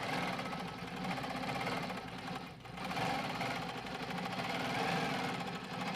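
A sewing machine stitching a quilted bag runs continuously at close range, a steady buzzing drone that dips briefly halfway through before resuming at full speed, with no talk over it.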